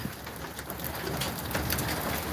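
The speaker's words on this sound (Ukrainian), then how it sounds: "у нас не то, що злива, у нас град" Hail pelting down around a shed during a storm, a dense, steady patter of hard impacts with sharp clicks throughout, close and fairly loud, with no talking.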